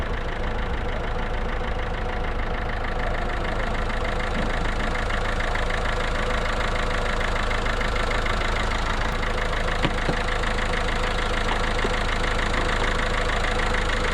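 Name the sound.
Ford 4010 tractor engine idling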